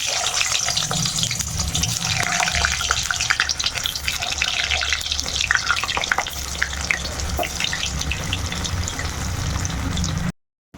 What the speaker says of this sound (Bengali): এখন এই আলুগুলো তেলের মধ্যে ভেজে নেব।